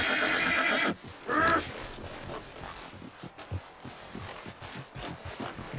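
A horse in the western game Red Dead Redemption 2, played on a RedM roleplay server, gives a loud shrill whinny at the start, followed by another brief neigh and then quieter rustling and hoof-like thumps.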